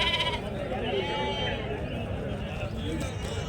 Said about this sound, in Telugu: కొన్ని పొట్టేళ్ళు ఉన్నాయి